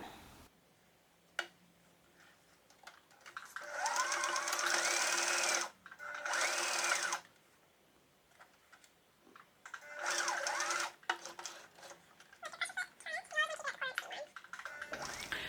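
A sewing machine stitches the seams of a fitted fabric face mask in several bursts of steady running, separated by short pauses, with quiet talk in between.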